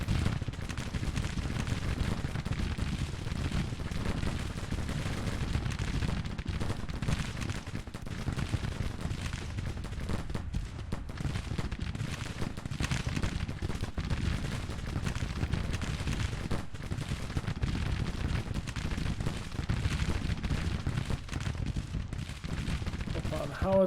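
Howitzer and 12-pounder cannon fire in a Civil War strategy game, a dense, continuous roll of booming artillery and crackling musketry across the whole stretch, loud and unbroken.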